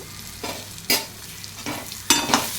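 Spice powder being stirred into food sizzling in a pan, with a few sharp scraping strokes of the spoon breaking through a quiet, continuous fry, close up and without talk.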